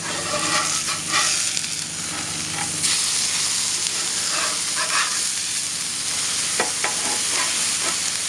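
Seasoned burgers sizzle on a Blackstone 17-inch Adventure Ready portable tabletop griddle, a steady loud frying hiss throughout, with occasional scraping and clinking from a spatula during the flip.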